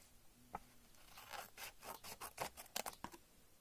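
Scissors cut through folded chart paper with a string of close, soft crunching snips and rasps, quiet and irregular over a few seconds.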